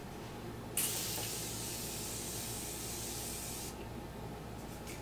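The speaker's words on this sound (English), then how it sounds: "today I wanted to hit it with a little Morphe Continuous Setting Spray." A long, steady hiss of Morphe Continuous Setting Spray misted over a face, a single continuous spray lasting about three seconds before cutting off to quiet room tone.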